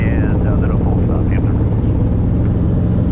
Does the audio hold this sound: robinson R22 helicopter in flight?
yes